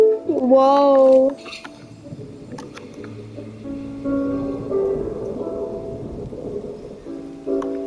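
Rain falls steadily in the Genshin Impact game world, with a rumble of thunder, while characters speak over the storm's soft hiss.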